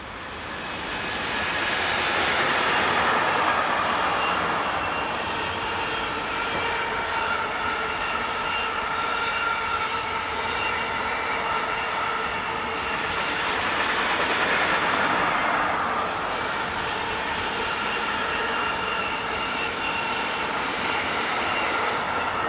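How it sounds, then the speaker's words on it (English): A Class 185 electric locomotive hauls an intermodal freight train past, its steady rolling rumble and rail hum swelling as it nears, holding loud for a long stretch as the wagons roll by. "185417 heads south with intermodal train DGS 43155 from Köln-Eiffeltor to Verona in Italy"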